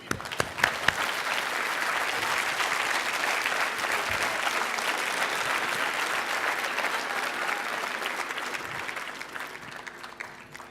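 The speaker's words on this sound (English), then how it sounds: "And I want you to clap until I tell you to stop." A standing audience at a Toastmasters division event in Qatar claps in a loud, sustained roar of applause that holds steady for about ten seconds before easing slightly.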